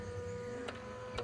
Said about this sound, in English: or we can print it from the printer.